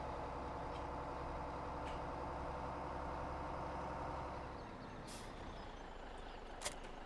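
A truck in Farming Simulator 17 drops off trailers, its steady engine rumble droning throughout before easing off, followed by a few brief hissing air bursts near the end.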